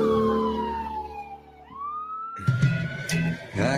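An ambulance siren wails in a long falling and rising glide on a city street after the Boston Marathon bombings. Noisy commotion and bursts of street sound follow.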